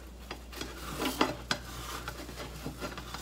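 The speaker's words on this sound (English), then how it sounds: "I'm just going to take my spatula, sort of go around the edge, just to loosen it" A metal spatula scrapes around the edge of a pan to loosen food, a series of irregular scraping strokes and light clinks over a faint steady hum, close and alone without talk.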